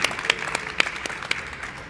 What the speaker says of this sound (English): Please help me give an applause to our guest speakers.